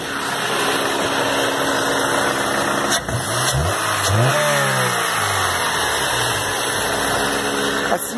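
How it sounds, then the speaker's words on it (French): Car engine running with its battery removed during an alternator test, on a car that had not been started for nearly a month: a steady idle hum, then a couple of quick revs that rise and fall before it settles back to idle. "La batterie n'est pas là. Le moteur tourne."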